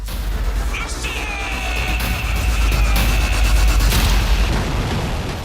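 A missile launch roars as a steady heavy rumble with a hissing rocket whine that climbs then holds, the blast sustained and loud across several seconds with no talk.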